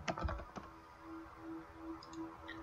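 Keystrokes on a computer keyboard while entering part labels into a circuit schematic, a quick flurry of close clicks at the start followed by a few sparse taps, with no talking.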